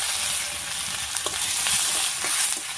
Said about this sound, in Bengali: এবার দিয়ে দিচ্ছি থেতো করা আদা।